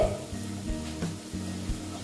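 Pointed gourd fries slowly on low heat in a covered pan with a little water, making a soft, steady sizzle with faint crackles and occasional muffled pan sounds throughout.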